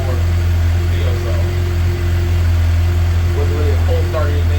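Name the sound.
2012 Suzuki GSX-R750 motorcycle idling with M4 slip-on exhaust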